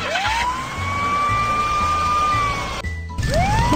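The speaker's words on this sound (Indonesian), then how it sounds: "Mobil pemadam kebakaran." Cartoon fire engine siren in a children's educational vehicle game, a loud rising and steady wail held for several seconds over a low pulsing engine rumble, cutting out briefly before the rising wail starts again.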